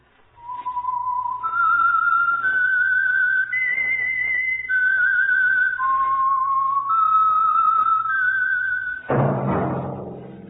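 Whistled theme signal of the radio program The Whistler, a clear solo melody of sustained, slightly wavering notes stepping up and down, ending with a sudden orchestral hit.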